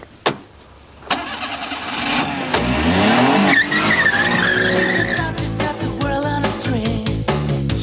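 A tiny Honda Beat kei car starts up and accelerates hard, its small engine revving higher and higher with a brief tyre squeal, loud and close, the revs rising through the gears.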